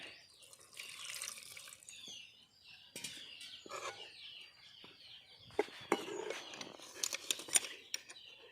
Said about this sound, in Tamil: அதுலேயும் தண்ணி ஊற்றிக்கலாம்.